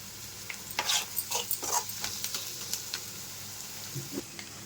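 Onions frying with spices for paneer 65, a soft, steady sizzle under several sharp clinks and scrapes of a spoon stirring the pan, and no voices.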